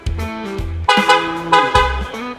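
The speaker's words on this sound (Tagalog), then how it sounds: "Busina bro, gumagana." A Ford Mustang EcoBoost's car horn honks several times in short, loud blasts, close by, with no talking.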